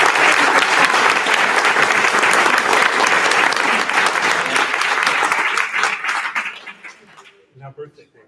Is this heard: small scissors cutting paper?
no